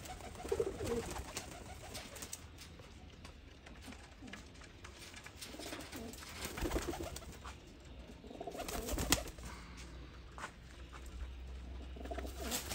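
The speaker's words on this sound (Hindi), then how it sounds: "बड़ा आला जोड़ा बनता है सियालकोटी कबूतर सियालकोटी मादी जे" Sialkoti pigeons cooing in a low, soft, repeated throaty rhythm, mixed with faint rustling and background noise, the calls moderately close and uneven in loudness with no clear talking.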